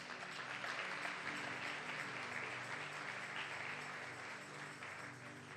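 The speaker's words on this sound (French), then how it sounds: "on peut acclamer et je commence." A live audience at a French-language religious gathering applauding steadily, a dense, even wash of clapping that holds at full strength across the whole stretch without a voice on top.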